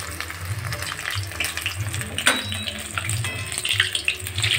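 Pumpkin flower fritters frying in hot oil as a Bengali dish, giving a steady bubbling sizzle with some clinking and stirring for a few seconds, no talking.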